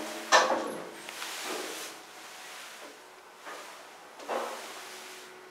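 An elevator door in an apartment building in Tomakomai slides shut. It is quiet and close, with a soft knock at the start and a few faint sliding rubs and bumps after it. No one speaks.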